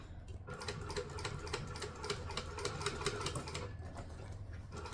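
A sewing machine stitching and back stitching around a bag, a fast steady mechanical clatter of rapid needle strokes that runs continuously and is heard close up with no talking.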